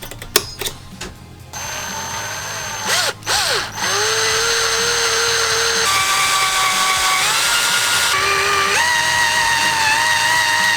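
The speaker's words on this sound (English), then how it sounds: "I drill into the wood, you know, a certain distance" A power drill bores into a wooden wand blank, with several short whirring bursts followed by a long, loud, steady high-pitched drilling whine that shifts pitch as the bit cuts, and no talking.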